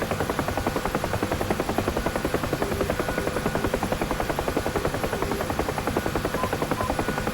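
A UH-1H Huey helicopter in the DCS flight simulator flies with a loud, continuous rotor thump that beats in a fast, even rhythm over a steady engine roar, with no talking.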